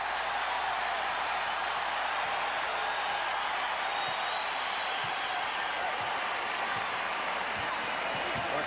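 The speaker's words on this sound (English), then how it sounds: "The crowd here at the Coliseum reacting to this first quarter effort by the Cavaliers" Basketball arena crowd at the Coliseum in Richfield, Ohio, during a Bulls–Cavaliers playoff game, a steady broad roar of cheering and murmur filling the hall without break, loud and continuous throughout.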